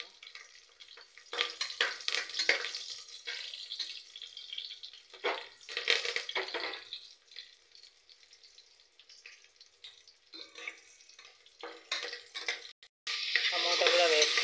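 Curry leaves and chopped onion fry in a hot pan, hissing and crackling in bursts that rise and fade, with a louder sizzle near the end.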